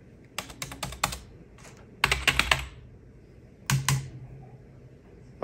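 A faulty computer keyboard types by itself, producing three rapid clusters of crisp key clicks separated by short pauses, loud and close with no voices.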